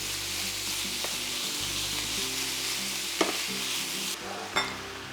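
Ground beef frying in a pan with bacon and onion, a steady close sizzle with occasional stirring scrapes and a couple of brief clinks.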